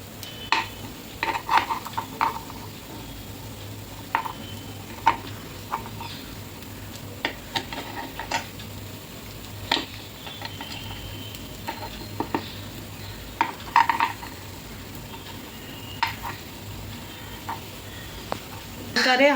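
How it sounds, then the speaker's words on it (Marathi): Appe made from dosa batter are flipped and pan-fried in an appe pan, producing a faint steady sizzle under scattered light metallic clicks and scrapes of the turning utensil. "असं भाजून झाल्यावर परतून घ्यायचं दुसरी साईड भाजण्यासाठी."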